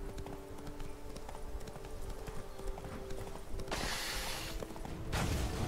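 Hooves of Roach, a horse in The Witcher video game, clip-clopping in a steady walking rhythm, close and clear, with a few creaks and a brief burst of louder noise near the end.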